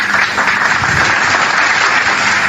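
Loud, dense applause fills the whole moment, a steady wash of many hands clapping close by with no pause.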